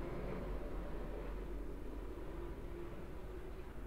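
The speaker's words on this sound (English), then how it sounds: "I guess that's a helicopter." A steady low rumble of a helicopter overhead, droning continuously without pause, fairly distant and even in loudness.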